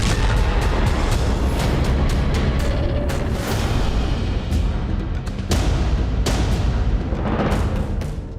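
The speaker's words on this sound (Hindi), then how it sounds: "एक मिस फायर रॉकेट से तेज धमाका गाजा" A misfired rocket blows up over the Gaza Strip, picked up by a CCTV camera as loud, distorted, rumbling blasts with a string of sharp cracks and booms over a constant heavy roar.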